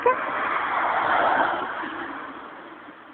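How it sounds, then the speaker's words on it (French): A car engine rushes past with a broad whooshing roar that builds to a peak around the middle and then fades away, with no talking. "il a entendu la voiture qui arrive vite"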